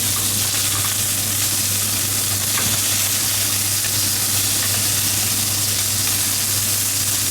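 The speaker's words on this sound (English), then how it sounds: "Air frying some chips there." Chips and fish fry outdoors during a land-based fishing trip, with chips cooking in an air fryer. A dense, loud, continuous sizzle and hiss holds steady from start to end, with no voices.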